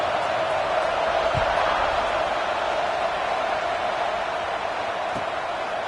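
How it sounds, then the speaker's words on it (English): A stadium crowd in an American football video game keeps up a steady, dense roar throughout. The sound is an even wash with no distinct voices standing out. "this crowd is buzzing after that last score"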